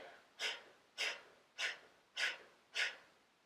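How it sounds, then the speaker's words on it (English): Five forceful, evenly spaced puffs of exhaled breath through the nose, about one every half second, close and clear in a quiet room during a purifying pranayama breathing exercise. "each time you exhale forcibly, your belly is going to naturally draw in"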